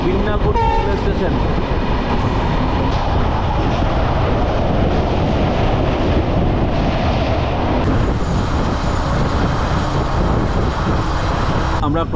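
Continuous heavy rumble and rattle of the Dooars Vistadome tourist express rolling along the rails, loud and close from inside the general coach, with a few sharp clanks along the way.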